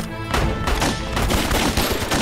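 Rapid gunfire crackles through a war drama battle scene, dense bursts of shots fired continuously and loudly across the whole moment with no clear pauses.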